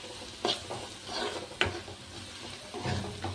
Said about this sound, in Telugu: కారం వేసుకున్నాక కలుపుకుందాం.